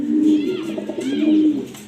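Two soft, throaty pigeon coos close by, each a low rolling call, with a short pause between them.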